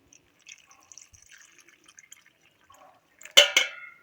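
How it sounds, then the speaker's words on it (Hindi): Plums being washed by hand in a vessel of water: soft drips and light trickles, then two louder sloshing splashes near the end as they are shaken. "उसके बाद हम इसमें पानी डालकर ना इस तरह से हिला हिला के इसको ना अच्छी तरह से धो लेते हैं"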